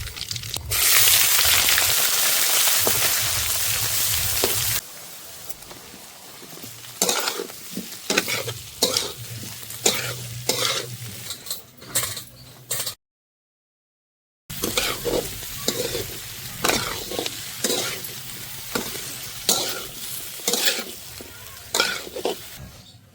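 Hot oil hisses and crackles as cumin and mustard seeds hit the pan, followed by repeated scraping stirs of a spoon against the pot, with a brief silent gap.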